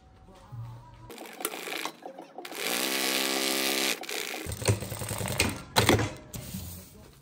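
A sewing machine stitches down the edge of a fabric compression bag, running in a steady loud burst after a few short clicks and handling noises, then giving way to rustling and clatter.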